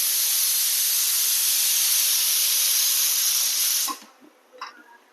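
A pressure cooker cooking colocasia stems lets out a loud, steady jet of hissing steam for several seconds, then cuts off abruptly, leaving a few light clinks in a quiet kitchen.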